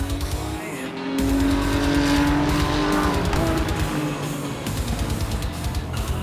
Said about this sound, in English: And the rest of the cars are coming through.